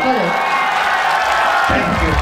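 Festival audience at an outdoor comedy show in Tikapur claps and cheers loudly and continuously, a dense wash of crowd noise with voices mixed in throughout.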